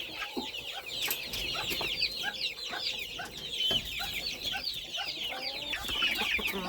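Chicks and hens cluck and peep in a busy flock, close by, with chirps overlapping continuously and no speech.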